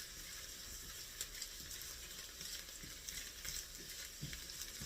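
Fresh garlic cloves fry in a pan for lemon turkey Greek soup, giving a soft, steady sizzle with occasional small stirring knocks, quiet and continuous throughout.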